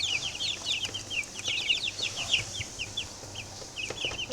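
Eight-day-old chicks in a brooder keep up rapid, high, overlapping peeps and cheeps, a busy chorus close by over a faint low hum, with no voices.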